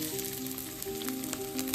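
Grated coconut fries in hot oil for a Trivandrum Onam sadya vada koottu curry, a steady close sizzle with soft crackling throughout a short moment.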